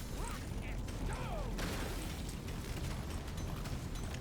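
A supply pod launches and slams down in Deep Rock Galactic: Survivor, a dense, steady wash of rumbling, mechanical game noise with a brief sweep near the start and no letup in loudness.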